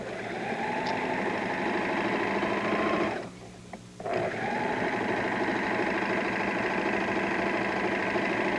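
A sewing machine stitches fabric star points in a fast, even drone, pausing for about a second in the middle before running on steadily, close and alone.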